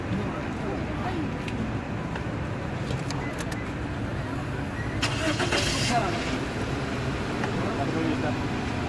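A car engine starts and runs with a steady low rumble in the Cameron Highlands, Malaysia, under constant broadband outdoor noise, with faint voices mixed in.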